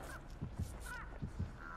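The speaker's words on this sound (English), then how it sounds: "who's got a bird on their head?" Crow caws from the Dead by Daylight game on PS4, a few harsh calls repeated in pairs at moderate level over a steady background hum.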